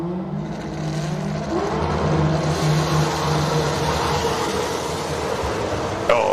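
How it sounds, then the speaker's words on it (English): A hill climb race car accelerates hard uphill with wheel spin, its engine note rising and straining steadily at moderate distance over outdoor ambience. "Oh, lots of wheel spin there,"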